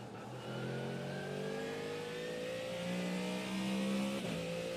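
Race car engine in the iRacing video game at the Nürburgring 24-hour race, a steady rising drone of revs climbing through the gears at moderate level, heard alone without speech.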